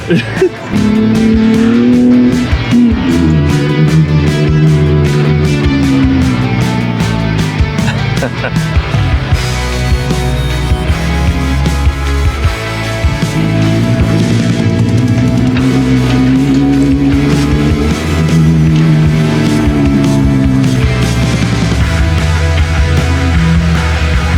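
A manual Nissan Xterra runs at full throttle, its engine climbing through rising and falling revs in a loud, continuous roar, with sharp rhythmic ticking early on and faint voices beneath.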